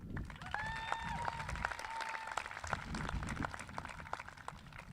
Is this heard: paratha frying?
no